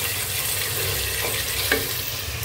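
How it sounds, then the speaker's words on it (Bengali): Spice paste for chicken biryani is fried and stirred in a pot, producing a steady close sizzle with a couple of faint scraping strokes and no talk. "সেটার জন্য মশলা কষিয়ে নিচ্ছি।"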